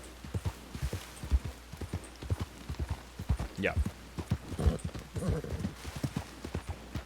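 Rhythmic clip-clop of video game horse hooves walking at a steady pace, with a brief whinny midway and a voice speaking briefly over it.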